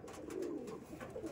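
Pigeons in a fancier's loft, Madrasi high-flying breed, give a steady low cooing murmur that rises and falls over a second or so, fairly quiet and close, with no talk.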